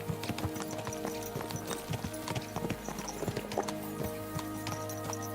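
Horses' hooves clip-clop steadily in the game Kingdom Come: Deliverance 2, a brisk irregular patter of many close strikes over a low steady hum of ambience and faint game sounds.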